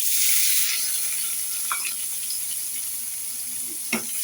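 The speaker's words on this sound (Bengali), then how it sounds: "তেল গরম হয়ে গেছে, এখন আমি পেঁয়াজ আর কাঁচামরিচ দিয়ে দিব" Onion and green chilies go into hot oil and erupt in a loud hissing sizzle that eases after about a second into a steady crackle. A couple of soft spatula clinks sound near the end, with no speech.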